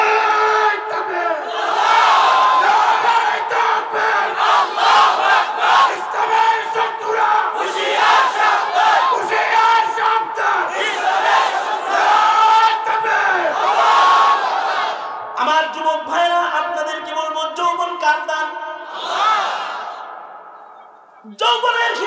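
A large crowd chants the religious slogan Allahu Akbar in loud, rhythmic, echoing unison, repeating call after call, with a leader's voice cutting in between the chants.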